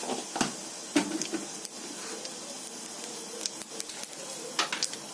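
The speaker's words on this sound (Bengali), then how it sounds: "কড়াইতে আমি তেল দিয়ে দিয়েছি এবং আমি কালো জিরে দিয়ে দিলাম" Nigella seeds sizzle in hot oil in a wok with a continuous soft hiss and scattered sharp crackles and pops, and no talking.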